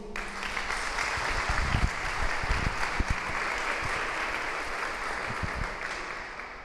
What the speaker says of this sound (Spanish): ¿Lo aplaudimos a Diego?